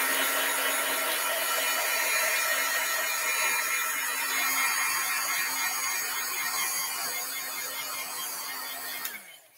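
A heat tool blows hot air to set VersaFine pigment ink on a card. A steady, fairly loud whirring hum runs for about nine seconds and then cuts off abruptly at the end.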